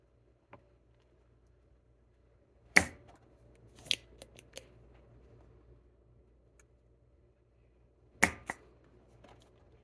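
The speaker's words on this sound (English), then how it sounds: "I'm going to trim that a little shorter so I can get my solder sucker down on it." Side cutters snip the lead of a solder joint on a classic Bally pinball rectifier board, a few sharp isolated clicks spaced seconds apart over a quiet hum, close and crisp, with no talking.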